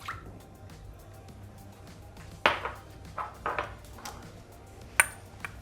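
A little milk trickles and drips into a pot for shrimp congee: a few faint, separate splashes and small pings at uneven intervals against a quiet kitchen background.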